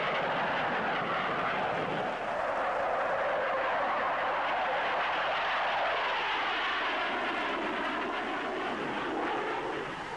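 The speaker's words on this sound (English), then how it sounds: "The Vickers N113 is a single-seat carrier-borne naval fighter bomber." Vickers N113 single-seat carrier-borne naval fighter bomber jet flying past, a loud continuous broadband roar with shifting tone, filling the whole stretch with no speech.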